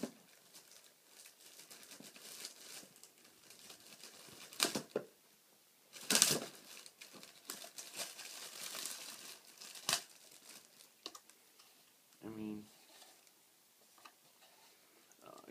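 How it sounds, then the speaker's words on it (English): Sealed plastic packaging around a 6.5 inch mid-bass speaker driver gets cut and torn open, with quiet crinkling and rustling throughout and a few sharper crackles and snips, close by and without speech. "I'll go ahead and cut this one open too."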